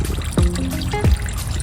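Fuel draining from a Freightliner M2 26-foot box truck, a steady liquid trickle and pour running throughout with a couple of brief gurgling splashes, fairly close and moderately loud.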